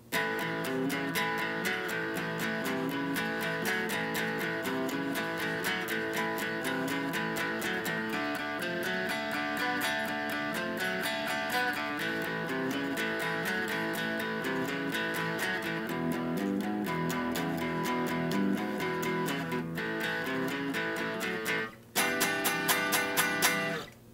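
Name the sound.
electric guitar blues shuffle riff in A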